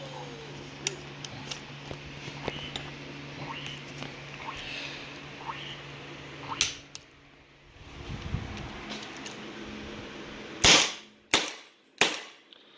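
A homemade gun, a Carmel Apple build, fires with sharp snapping cracks, scattered light clicks early on, then three loud close shots near the end, no talking.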